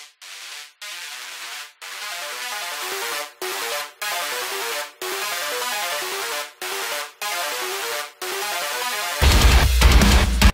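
Synth layers sit beneath metal guitars in a heavy metal song production, with steady sustained chords chopped by repeated short rhythmic gaps, then a loud, dense burst near the end.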